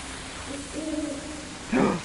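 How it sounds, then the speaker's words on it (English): A single owl hoot rings out in the Daylight horror game, a short low tonal call rising from steady ambient background, with a brighter burst of sound near the end. "I heard an owl."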